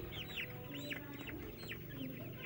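Chickens cluck steadily during vaccination on a poultry farm, with several birds overlapping in a continuous, moderately loud chorus and no talk over them.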